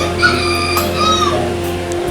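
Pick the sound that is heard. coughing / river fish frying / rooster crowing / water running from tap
rooster crowing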